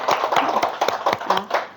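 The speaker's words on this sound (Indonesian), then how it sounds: "Kita tepuk tangan, aplaus untuk teman-teman kita" A small group at a school training session claps for colleagues, a short burst of sharp, separate hand claps at an irregular rhythm, close and moderately loud.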